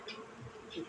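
Honey bees buzz around a hive frame in a queenless colony, a close, fairly faint drone that swells briefly as individual bees pass.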